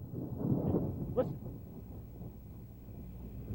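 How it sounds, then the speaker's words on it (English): A deep, rumbling roll of thunder during a snowstorm in Worcester swells and fades under steady wind noise, while a voice briefly speaks over it. "We just had a lightning strike and thunder here in Worcester"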